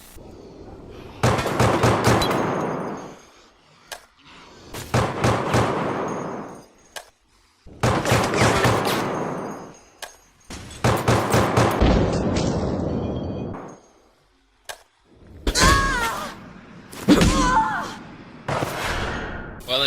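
The Samurai Edge handgun fires in Resident Evil: Operation Raccoon City, loud sharp shots in rapid bursts of several rounds each, with short pauses between volleys and some talk mixed in.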